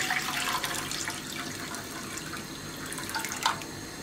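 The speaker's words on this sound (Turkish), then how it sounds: "İçerisine kettle'da ısıttığım kaynar sudan ekliyorum." Boiling water from a kettle pours into a cooking pot: a continuous splashing, gurgling stream of liquid runs steadily throughout at moderate loudness, with no talking.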